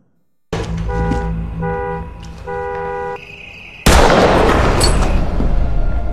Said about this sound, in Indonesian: Setelah menghabisi anak buah Cyrus, Tedo langsung membunyikan klakson mobil sebagai tanda bagi broker kalau mereka telah diserang.